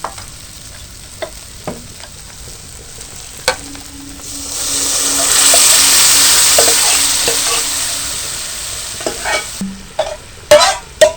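Chana dal is tipped into fried spices with turmeric and stirred: scattered spoon taps and scrapes, then a rising sizzling rush as the lentils hit the hot pan, fading back to clinks and stirring.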